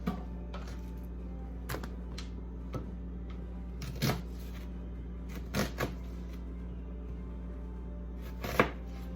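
A knife chopping onion on a cutting board, sharp separate knocks at uneven intervals over a low steady hum, with a few louder strikes near the end.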